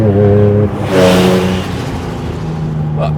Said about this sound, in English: some valves open in the exhaust